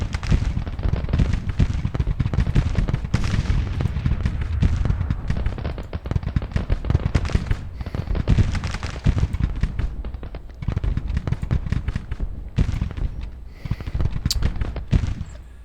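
Musket volleys and artillery in a Civil War battle at Antietam, from the strategy game Grand Tactician: dense, crackling rifle fire with booming cannon shots mixed in, loud and continuous with brief dips.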